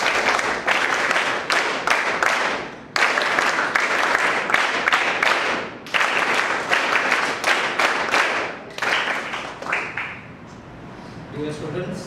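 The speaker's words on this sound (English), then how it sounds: "You all can welcome sir with a big round of applause." An audience at a school programme in Mumbai applauds to welcome a speaker, dense clapping in several bursts that pause briefly and then resume, fading near the end.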